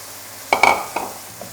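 Goat brains dropped into fried masala in a pan, giving a few short sizzling bursts and scrapes of stirring, close and fairly loud, with quiet between them.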